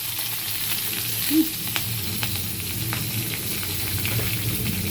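Whole cumin seeds, radhuni and three torn green chilies sizzle in hot oil in a pan, a continuous crackling hiss close by with a faint spatter and a few light stirring taps, no talking.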